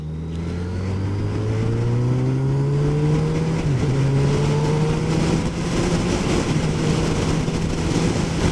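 A 2022 Honda CB1000R Black Edition motorcycle accelerates hard on the road, its engine note climbing through the gears with a loud, close, continuous roar and a brief dip at a shift.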